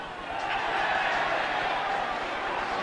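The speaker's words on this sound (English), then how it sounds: "the crowd is so enthusiastic at this point in time that every time a penalty is awarded to Swansea, it sounds as if they've scored a try" Crowd noise from the 1989 Swansea versus All Blacks rugby match rises into a loud, sustained roar across the clip.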